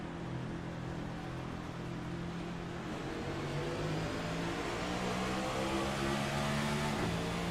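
Race car engine heard onboard during a hot lap on a race track, a loud continuous mid-pitched roar with steady revving and gear-driven pitch shifts throughout, no voices.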